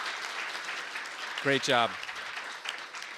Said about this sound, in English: Can we get a round of applause for Mike McIntyre and Mallory?